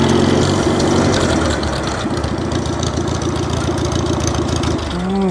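A Farmall Cub tractor engine runs steadily with its PTO spinning, a loud, close, rapid low chugging that holds throughout without talk.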